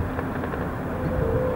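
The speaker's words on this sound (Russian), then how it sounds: "Вертолет Ми-8, по-моему." A lightened Mi-8 helicopter in flight on a hot day, heard from inside the cabin as a steady, loud low drone and rumble with a faint whine, unbroken by talk.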